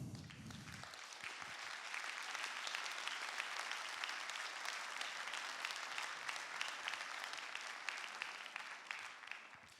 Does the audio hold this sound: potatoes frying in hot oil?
no